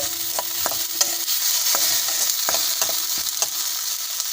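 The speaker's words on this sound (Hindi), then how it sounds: "इसको अब हमें 1 से 2 मिनट तक के लिए भूनना है" Garlic chutney fries in a pan with a steady bright sizzle, and a utensil scrapes and stirs through it at irregular intervals. No voices are heard.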